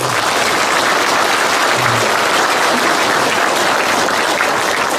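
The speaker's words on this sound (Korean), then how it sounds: "이 대목에서 박수 한번 치셔야 돼요" An audience at a Korean lecture on police and prosecution reform fills the room with loud, sustained applause, many hands clapping densely and evenly from start to finish.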